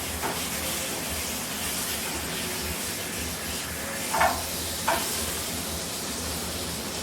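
Butter and a sandwich sizzle on a hot tawa, a steady, close hiss that runs throughout, with two brief clicks of a utensil partway through.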